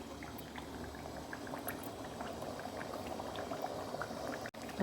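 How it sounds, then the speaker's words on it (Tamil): Herbal oil with tulsi, neem and kuppaimeni leaves bubbles and gurgles continuously in a pot over a medium flame, a steady dense boiling with small pops, fairly quiet and close. "மீடியம் ஃப்ளேமில் தான் வச்சுருக்கேன் ஆனாலும் பாருங்கள் எப்படி கொதிக்குது பாருங்கள்"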